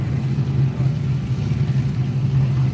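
A 1980 Ford Fairmont drag car races down the quarter-mile at Woodburn Dragstrip, its engine a loud, steady rumbling roar with no voices.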